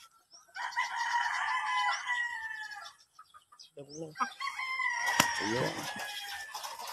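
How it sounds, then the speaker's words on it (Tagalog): Roosters at a game farm crow and cluck nearby, one long crow followed by clucking and another crow overlapping, with a brief voice heard among them. "Ay mga manok dito"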